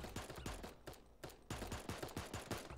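Rapid gunfire in an online battle-royale video game, a dense burst of sharp shots in quick succession that drops out briefly near the middle and then resumes just as fast.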